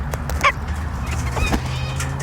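A wild goose-like bird in a park gives a few short honking calls, close by, over a low steady outdoor background hum.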